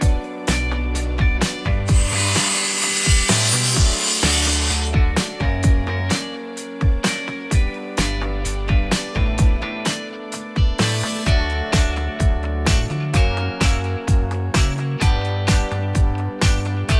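Cedar 2x4 block being sawn and trimmed by hand for a Star Wars prop replica, with rapid repeated rasping strokes and scraping tool noise, loud and close, running steadily without talk.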